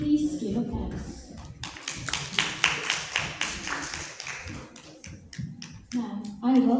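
Audience applause at a school debate round, a scattered burst of clapping that swells in the middle and thins out, with speech heard at the start and end.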